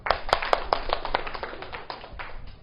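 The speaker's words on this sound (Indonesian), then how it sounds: "Kita tepuk tangan dulu." Hands clapping in a classroom after a school discussion in an economics lesson, a few sharp distinct claps at first, then a steady, moderately loud patter of applause from a small group with no talking.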